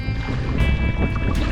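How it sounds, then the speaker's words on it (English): Steady wind buffets the microphone out on the open water of Long Island Sound from a fishing kayak, a continuous close rumble with faint water lapping beneath. "it's a bit windy"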